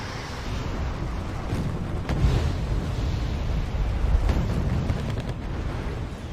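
Tank combat in Wargame: Red Dragon with T-72s in action, a heavy, continuous low rumble of blasts and booming fire with a couple of sharper thumps standing out, dense and loud without clear gaps.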